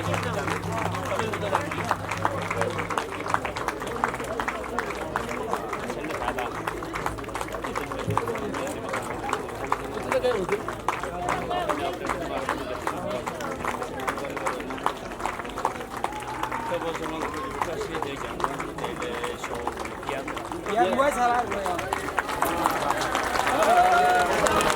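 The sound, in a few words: audience applause at a Chaurasi Pooja ceremony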